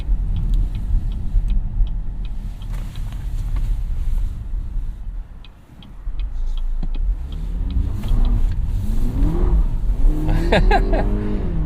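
A 2017 Cadillac CT6 with a 2.0L turbo engine accelerates, its hum rising and easing before climbing in pitch through several revs near the end, heard from inside the cabin.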